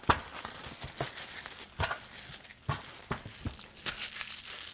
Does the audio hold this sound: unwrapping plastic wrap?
yes